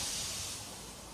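The steam engine Edward arrives with a soft, steady hiss of escaping steam, fairly faint and continuous, slowly tapering off.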